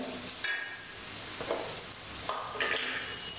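Soya chunks being dry-roasted and stirred in a pan, a moderate hiss with a few scraping stirs, brief and close, with no talking.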